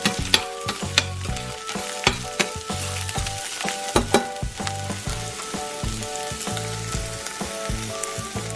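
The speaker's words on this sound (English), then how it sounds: "So next, we're gonna add our garlic. Saute for about 2 minutes." Garlic sautés in a pan with a steady sizzle, stirred now and then with sharp clinks of a utensil against the pan, close and moderately loud.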